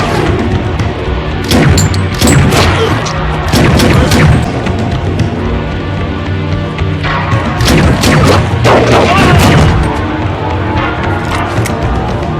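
Bursts of gunfire and crashing impacts from an action scene in the 1995 film Crying Freeman, dense and loud, arriving in several heavy clusters.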